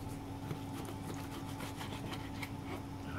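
A knife slices lengthwise through a cooked duck breast on a cutting board, giving soft, close, rhythmic rubbing and sawing strokes, faint and steady, with no talking.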